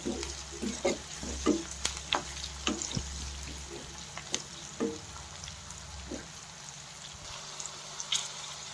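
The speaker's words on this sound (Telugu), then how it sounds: "కొన్ని పచ్చిమిర్చి, ఇవన్నీ కొంచెం బ్రౌన్ కలర్ వచ్చే వరకు వేసుకోవాలి." Green chillies fry quietly in a pan, a soft low sizzle broken by a series of irregular clicks and taps from stirring, fairly faint and close.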